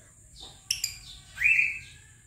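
A lovebird gives a few short, high chirps and a brighter whistled call, fairly close against quiet background hum.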